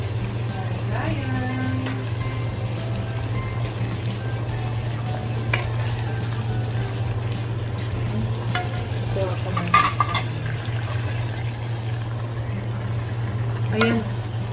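Bitter melon (ampalaya) with curry frying in a home pan, a steady hiss running throughout with occasional stirring clinks, while a person talks intermittently over it.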